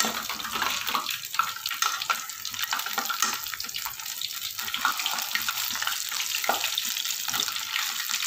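Medu vada deep-frying in hot oil, a steady dense sizzle and crackle with occasional bubbling pops, close and continuous throughout, no voices.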